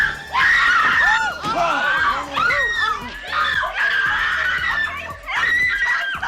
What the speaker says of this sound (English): And they could scream real good.